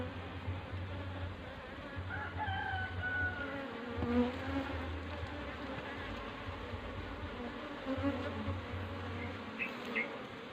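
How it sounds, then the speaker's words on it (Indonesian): Bees buzz steadily around a hive that holds comb and honey, a close, continuous droning hum with passing individual insects rising and fading. "Jadi memang untuk lebah ini itu ya"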